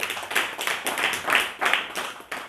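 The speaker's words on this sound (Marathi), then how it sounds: "याच्यासाठी टाळ्या वाजवा" An audience clapping in bursts of rhythmic hand claps during a devotional gathering, each round of clapping rising and then fading.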